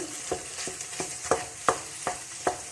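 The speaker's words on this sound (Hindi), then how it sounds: "अब हम हलवे को अच्छा सा भूनेंगे" Makhadi halwa is stirred and roasted in a pan: a spoon scrapes and knocks in a steady rhythm, about seven distinct strokes over a soft frying sizzle, with no voices.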